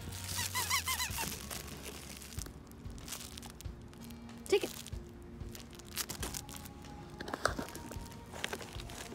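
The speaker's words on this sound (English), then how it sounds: "We have like a big squeaky." A big plush Mix and Match Play Terror dog toy from a BarkBox squeaks in loud, repeated bursts near the start, followed by crinkling and handling noises, with more sharp squeaks later.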